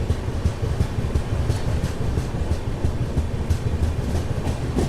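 A Secunderabad–Shalimar weekly AC express train rolls along, heard from inside a coach as a steady low rumble with rhythmic wheel clicks on the rails, continuous and moderately loud with no talk.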